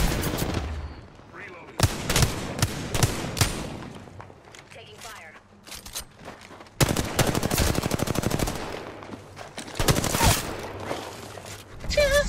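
Video game gunfire in a tactical shooter, loud bursts of rapid automatic shots and single cracks in several rounds with short pauses, up close, alongside game voice lines and player talk.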